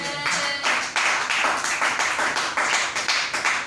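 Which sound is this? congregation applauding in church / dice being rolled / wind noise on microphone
congregation applauding in church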